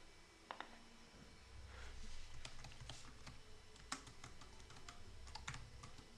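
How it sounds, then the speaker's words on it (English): Keys clatter on a computer keyboard in irregular bursts of quick taps, close and fairly quiet, with no talking. "I'm just typing"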